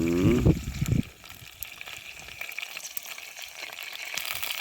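Chicken and rice cooking in a pot over an open fire at a Jamaican work site, with a brief loud bubbling burst at the start, then a steady soft sizzle and simmer carrying on alone.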